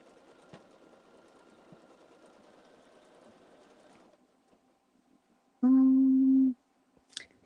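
A sewing machine stitching a quilt runs with a steady, faint mechanical whir for about four seconds, then stops, followed by a short loud electronic beep and near-silence.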